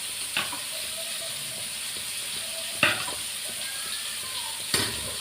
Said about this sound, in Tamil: இப்போ இது கிளறி பார்ப்போம்